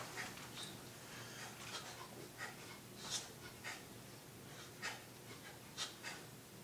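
Forceful exhalations from a Sanchin karate breathing drill come as repeated short bursts of breath at a steady pace, faint and close, with no talk.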